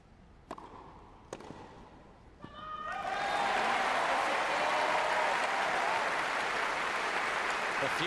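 Wimbledon 2012 quarter-final crowd at Lisicki versus Kerber: a few sharp ball strikes, then loud sustained applause and cheering swells up and fills the stadium, with a commentator's voice faintly underneath.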